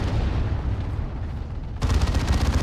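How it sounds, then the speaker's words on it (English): Explosions in the strategy video game Warhammer 40,000: Dawn of War 2, a loud continuous rumble of blasts and booming battle noise that swells sharply partway through. "Some explosions."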